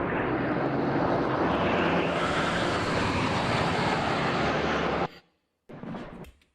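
An aeroplane roars loud and continuous in AI-generated footage, a dense broadband engine rush that holds steady for about five seconds, cuts out abruptly, then returns briefly before stopping.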